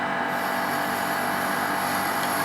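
A grinding wheel being dressed with a diamond while truing stones for cast-iron cylinder heads of a GAZ-52 engine, a harsh steady high-pitched grinding hiss with a constant whine, loud and unbroken.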